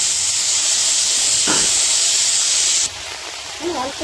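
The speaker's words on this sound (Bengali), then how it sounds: "ভেজে নিচ্ছি, এই তেলটাতে" Raw peas frying in oil, a loud close hiss like steam that holds steady, then drops abruptly to a quieter sizzle, with a brief scrape of a stirring utensil and a faint voice at the end.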